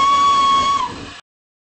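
A steam locomotive whistle blows a steady, shrill tone for about a second, then cuts off abruptly into silence.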